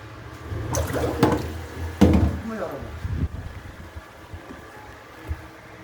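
Water overflows from a drain pipe clogged with grease, with splashy gushing bursts early on that fade to a quieter trickle, heard near while people talk over it.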